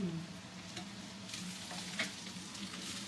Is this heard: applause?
no